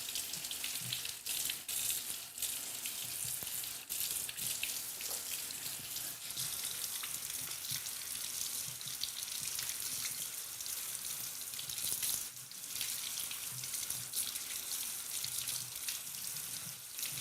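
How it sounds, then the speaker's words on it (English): A split leek being washed under a running kitchen tap while making creamy leek and potato soup, a steady close hiss of flowing water with occasional splashes and clatters, heard alone without talk. "Make sure you have access to all your layers and then give it a wash."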